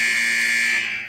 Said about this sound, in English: That alarm that we know and love was actually created by the production team at Universal by using the tones from station 127